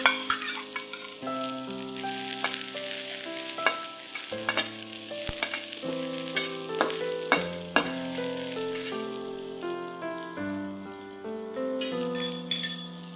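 Ginger, garlic and the white parts of spring onions fry in hot oil in a wok, with a steady close sizzle under music and occasional clinks of stirring.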